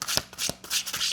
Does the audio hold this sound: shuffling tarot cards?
yes